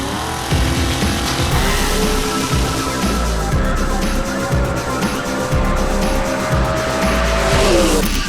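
A Corvette makes a fast drag racing pass at an Indy strip, its engine roaring loud and steady with a rising pitch through the gears and a tire squeal, then easing off near the end.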